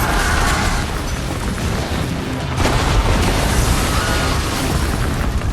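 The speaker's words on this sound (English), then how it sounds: "Explosions tore through the building amid screams from inside." Continuous loud, rumbling blasts and crashing debris fill the whole stretch, with a sharper burst midway and no clear voices.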